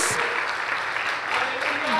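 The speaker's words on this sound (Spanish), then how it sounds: "Denle un aplauso al Señor, amado hermano." A church congregation applauds in a continuous, even wash of clapping, with voices audible in the hall alongside it.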